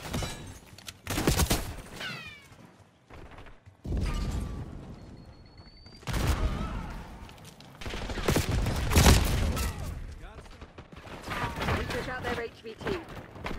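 Call of Duty multiplayer firefight with repeated bursts of gunfire and loud impacts rising and falling across the stretch, with a man's radio-style voice speaking between the shots.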